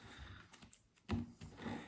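Playing cards being shuffled close up, a few quick riffling bursts separated by brief pauses, with one louder snap near the middle.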